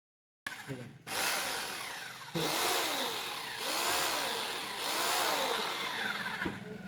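An electric drill machine whirs steadily after switching on, with short stops and restarts along the way.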